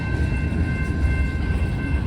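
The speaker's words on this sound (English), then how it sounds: "Because you know how often trains stop here in ECORSE." A train rolls past at a railroad crossing in Ecorse, slowing down, with a steady low rumble of wheels and cars and a sustained tonal whine running through the whole stretch.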